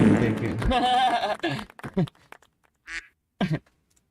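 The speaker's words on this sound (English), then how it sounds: "I just quacked." A duck quack sound effect honks out amid people talking on a late-night show, followed by a few short, scattered bursts of sound.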